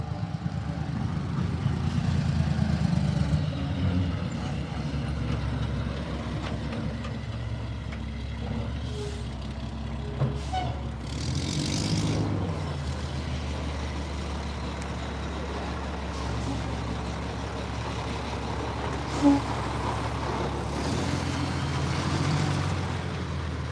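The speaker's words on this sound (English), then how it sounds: "let me let this truck pass" A truck rumbles past outside with a deep, sustained engine drone that swells and fades over about twenty seconds, with a sharp hiss and faint mechanical clatter along the way, and no talk over it.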